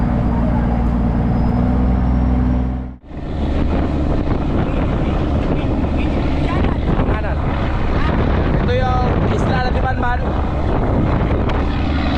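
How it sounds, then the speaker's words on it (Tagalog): Strong wind buffets the microphone in a constant loud roar, briefly cutting out, with faint voices and motor-like noise underneath. "Medyo mahangin ang konti"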